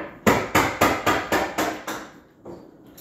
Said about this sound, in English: you put the screwdriver in the hole and you hit it with the hammer